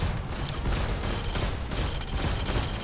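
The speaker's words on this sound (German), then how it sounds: "Oh Gott, wir sind zusammen explodiert." Spaceship explosion in the Star Citizen space combat game during an Aegis Sabre battle royale: a dense, continuous roaring blast with heavy low-end rumble and crackling debris, loud and sustained throughout without talk.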